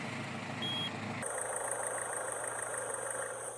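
An accident-damaged Peugeot 206 engine catches on its first start and settles into a steady, even idle, a constant mechanical hum with a faint high whine running throughout.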